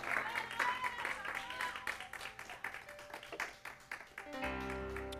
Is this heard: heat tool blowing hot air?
no